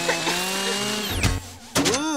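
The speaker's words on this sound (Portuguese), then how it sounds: "Magia Espada Motosserra!" A cartoon magic chainsaw sword revs and buzzes in a short burst, then sweeps down with whooshing and twangy sound effects, loud and close, in an animated show.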